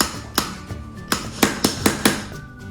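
A small hammer taps on a dinosaur dig kit block, about seven sharp hard knocks in an uneven rhythm, close and clear with no talk.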